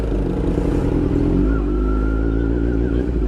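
Slow traffic of motorcycles and cars near a bridge under roadwork rumbles steadily and close by, with a low engine drone and a brief rising whine from a passing vehicle.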